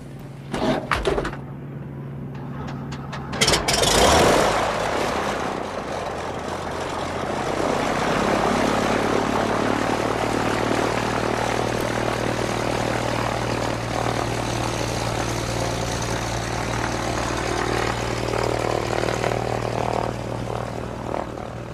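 A propeller airplane roars up close after a few door thumps, and its engine drone grows and then holds steady and loud to the end.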